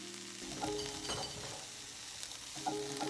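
Tofu and cabbage fry in a pan with a steady, moderate sizzle, marked by a few soft clinks and stirring scrapes spread across the clip.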